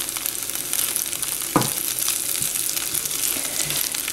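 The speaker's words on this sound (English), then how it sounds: "Now quickly saute this around on this side." Rice sautéing in a one-pot dinner, a steady close sizzle and crackle in the pan with a brief stirring scrape partway through.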